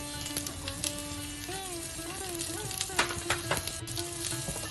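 Chopped onion sizzles as it fries in hot oil in a pan for a Mangalore-style chicken green masala, a steady crackling hiss with scattered pops and a faint whistling tone underneath.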